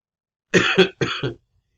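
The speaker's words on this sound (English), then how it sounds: "I still have this cough" Two close, sharp coughs in quick succession, loud and raspy, followed by silence.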